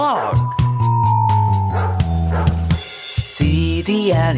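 A dog barks a few times over a bouncy children's farm-animal song, with music and singing continuing loudly throughout.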